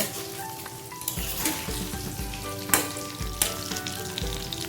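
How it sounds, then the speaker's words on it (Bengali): Pieces of katla fish fry in hot oil, a close, steady sizzle with occasional louder spatters and bursts of crackling as the pieces are moved in the pan, no voices. "বাকি মাছগুলো ভেজে নেব।"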